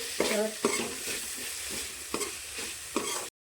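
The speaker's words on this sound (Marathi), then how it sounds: "आता आपण हलवून घेते।" Green chilies frying in oil in a pan for egg biryani are stirred with a spatula, giving several sharp scrapes at irregular intervals over a steady, close sizzle.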